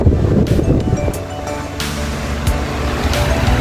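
A steady, rushing whoosh of an electric stand fan blowing hard at high speed, close by and continuous, with no voices.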